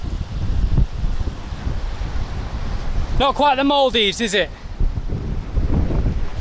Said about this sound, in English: That right there is the Atlantic Ocean.